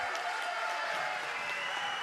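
Wrestling crowd at a SoCal Pro Wrestling show in Vista, California, cheering and applauding in a steady, dense roar that holds for the whole stretch, no voices standing out.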